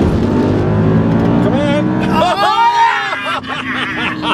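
A fast car launching hard for a 0-60 mph run at high altitude, about a mile above sea level: steady loud engine roar that surges as the car pulls away, with excited voices talking and cheering over it.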